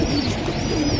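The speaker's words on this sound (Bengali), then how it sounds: "আমার বাসার উড়েনা কবুতর যেটি দেখাইতাছি" Giribaz pigeons coo at a pigeon farm, a low, throaty, continuous cooing close by with a faint higher hiss above it and no talk.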